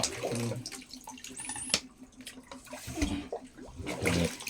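A pump draws water into a drain pipe to clear a blocked toilet trap, giving a steady splashing, gurgling flow under a low, pulsing mechanical hum, close and continuous.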